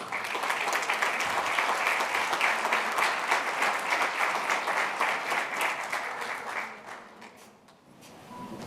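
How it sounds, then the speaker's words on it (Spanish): Loud, sustained audience applause at a sustainability panel event greets the incoming host, steady dense clapping for several seconds before tapering off near the end. "la recibimos con un fuerte aplauso"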